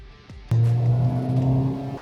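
A car engine bursts into a loud, close rev after a brief thump, then holds a strong rumbling roar for over a second before easing slightly.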